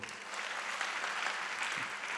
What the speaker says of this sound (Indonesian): Coba tepuk tangan bagi Tuhan.